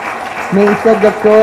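Audience applause at a cultural event celebrating Papiamentu as national heritage; the clapping starts soft, then swells into a steady patter that continues under a speaking voice.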